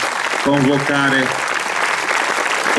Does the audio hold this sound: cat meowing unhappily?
no